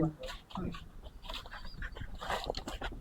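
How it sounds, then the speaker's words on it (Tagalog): A dog named Brad whimpers and pants nearby in a family home, giving short high whines and breathy sounds, with people talking over it at times. "Ito yung aso nila"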